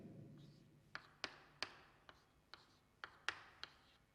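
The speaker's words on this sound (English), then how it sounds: "let me write the structure of acetic acid" Pen marks on paper while the structure of acetic acid is written out: a string of about nine sharp little taps and short scratches at an irregular pace, quiet and close, with no voice.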